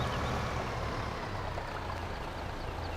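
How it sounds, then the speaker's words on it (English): Waterfall in Farming Simulator 15 gives a steady, soft rushing wash of water, continuous and even with no other sounds. "And you got a waterfall."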